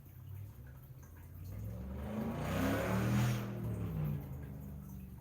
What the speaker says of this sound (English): Did y'all hear like a car flying to go nowhere?